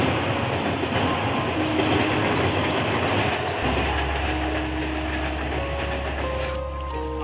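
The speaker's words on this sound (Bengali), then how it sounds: "ট্রেনের আওয়াজ হচ্ছে" A train passing near a pond in the morning, a loud sustained rumble with rhythmic wheel clatter and a deep low drone that grows heavier partway through, no speech.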